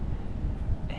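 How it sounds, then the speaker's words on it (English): Wind gusts buffet the microphone outdoors during a Nebraska deer bow hunt, a low rumbling rush that swells and fades, close and fairly loud. "the wind's hitting me right here in my face"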